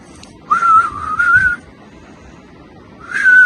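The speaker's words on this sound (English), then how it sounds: "It literally sounds like me trying to whistle." Two wavering whistled notes sound outdoors, each about a second long and separated by a pause, clear and fairly loud against quiet background noise.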